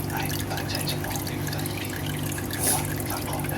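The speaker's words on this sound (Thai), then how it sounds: "โอเสียงน้ำกรอง" A water filter runs with a steady close rush and trickle of flowing water, a constant liquid hiss with a faint voice underneath.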